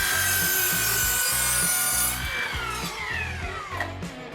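A cordless 40V Evolution miter saw slices a 22.5 degree bevel cut through a 2x4, giving a loud, steady, rhythmically pulsing buzz as the blade bites the wood, then a falling whine as the motor spins down.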